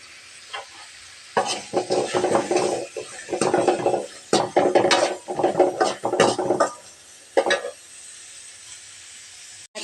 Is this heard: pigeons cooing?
no